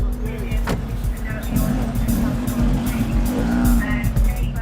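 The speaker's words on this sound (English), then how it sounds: "the driver continues to demonstrate his bad driving skills in full view of the police" A car driven recklessly in view of police, its tires squealing in long wavering tones over a loud engine roar close by, with voices talking over the noise.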